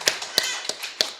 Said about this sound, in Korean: 다시 한번 박수 좀 부탁드릴게요